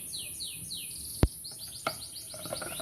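Canaries kept at a home breeding setup chirp with quick, repeated high tweets, fairly faint, with a sharp knock and a few soft clicks in between.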